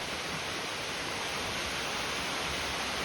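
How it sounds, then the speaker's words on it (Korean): Steady rushing roar of a small waterfall on a forest trail, constant and broadband, heard up close with nothing else over it. "아담한 규모의 폭포가 눈에 들어오는데요"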